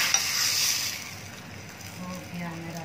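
Spices for tempering sizzle and crackle in hot oil as they are poured into raita in a home kitchen, a brief burst of frying hiss with some utensil clinks, followed by quieter sounds.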